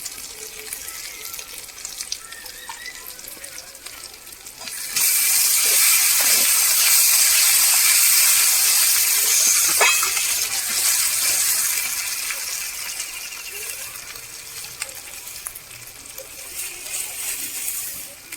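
Nigella seeds (kalo jire) dropped into hot oil, a sudden loud sizzle bursting in after a quiet stretch of light clinks, then slowly fading while occasional utensil taps sound.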